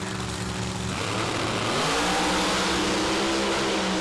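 Pro Modified drag race cars launching down the strip, a loud sustained engine roar that rises sharply in pitch as the cars accelerate away.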